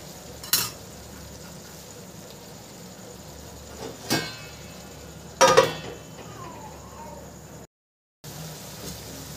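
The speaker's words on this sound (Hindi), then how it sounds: "दो मिनट और मसाले को ढककर भून लेते हैं।" Masala for an egg curry frying quietly in a pan under a steady soft sizzle, with three distinct clinks and scrapes of a spoon stirring at intervals and a short dropout late on.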